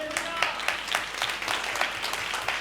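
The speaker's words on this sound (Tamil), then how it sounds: "கைத்தட்டுங்க பார்க்கலாம்" A church congregation at a Sunday service claps along in a fairly regular rhythm, the sharp hand claps moderately distant and somewhat faint in a reverberant room.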